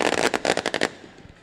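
A rapid string of firecrackers goes off at a local football championship match, about a dozen sharp, loud cracks in quick irregular succession before fading into ambient noise.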